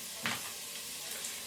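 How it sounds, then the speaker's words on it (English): Onions frying in a pan, a soft, steady sizzle with a brief stirring scrape near the start, quiet and close, with no talking. "Wait for my onions to brown."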